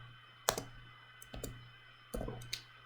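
A computer keyboard is tapped in a few short bursts of clicks, separated by pauses, close and fairly quiet over a low steady hum.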